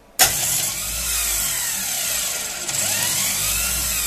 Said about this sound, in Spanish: vamos viendo el Bendix y escuchando el motor que trabaja menos forzado y más ligero